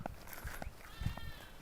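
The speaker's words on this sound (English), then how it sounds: "You hear the goats?" Goats on a neighbouring farm bleating from a distance, a few short calls spread across the moment amid faint outdoor background noise.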